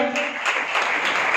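A Sunday church congregation claps for Jesus Christ, a steady, dense wash of hands held at an even level for a short burst.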